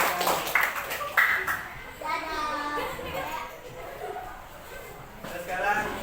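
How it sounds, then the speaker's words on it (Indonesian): A classroom of children applauding in an Indonesian school lesson, scattered clapping with lively kids' chatter and a teacher's voice mixed in, moderately loud. "Ini ya, tepuk tangan ya."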